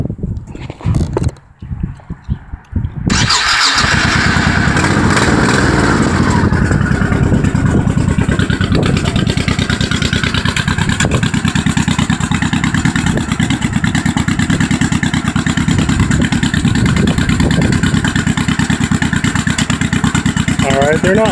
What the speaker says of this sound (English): So right now I have the baffles in the bike, and we'll go ahead and fire it up and take a listen to it.